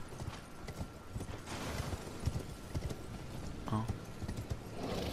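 Horse hooves gallop in a steady, rapid clip-clop rhythm while riding through the Elden Ring video game, fairly close and continuous, with a voice talking over the hoofbeats.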